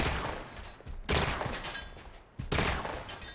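Open Hand weapon in Halo 5 firing swarms of tracking bolts, two loud, dense bursts of rapid energy shots in quick succession, each volley a crackling rush that trails off before the next.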